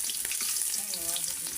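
Green chilies and onion frying in oil in a pot over a village stove, a dense bright sizzle crackling steadily without talk.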